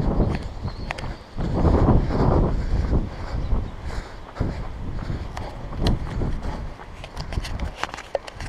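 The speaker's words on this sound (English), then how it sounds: "Even though it's a windy day, wind is still a good day for sports if you're a kite surfer." Wind buffets the microphone on a windy coastal path in Angus, a heavy gusting roar that rises and falls, with footsteps crunching along the path beneath it.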